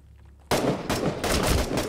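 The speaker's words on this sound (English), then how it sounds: "I heard the shots behind me" Gunfire in the shooter Six Days in Fallujah breaks a near-silent moment with loud, close bursts of rifle shots, a sustained volley followed by a second dense cluster.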